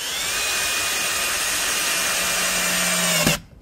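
A HOTO 12V brushless cordless drill bores steadily into wood with a continuous high whine under load, then cuts off abruptly near the end, leaving quiet. No one speaks.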